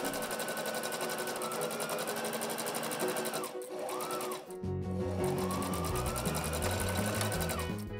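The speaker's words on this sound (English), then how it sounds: "Then it's time to sew everything else. I started with the sleeve underarm seams." A sewing machine stitches the sleeve underarm seams of a 1960s dress, running with a loud, continuous rapid whirr. It dips briefly midway, then resumes with a lower, heavier chugging rhythm.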